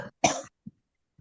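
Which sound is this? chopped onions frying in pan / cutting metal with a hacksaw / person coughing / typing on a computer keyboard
person coughing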